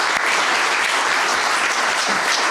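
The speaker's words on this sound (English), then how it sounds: "So a round of applause for our MC, Bob Walsh." Audience applause at a Clean Water Action Rhode Island awards breakfast, a dense, loud, steady wash of many hands clapping, close and continuous, with no voices over it.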